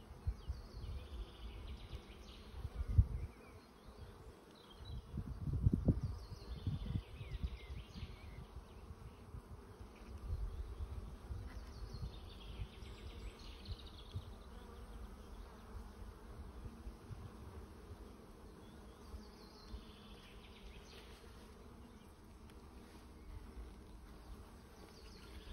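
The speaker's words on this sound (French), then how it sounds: "c'est la Buckfast. Donc c'est une abeille qui est quand même assez... qui n'est pas agressive" Buckfast honeybees buzz steadily at an open hive, a dense continuous hum close by with a few louder passes of individual bees.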